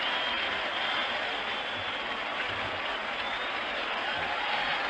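A baseball crowd at a 1975 World Series game late at night keeps up a steady, even wash of applause and crowd noise with a distant, slightly muffled broadcast quality.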